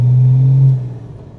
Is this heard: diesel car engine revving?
yes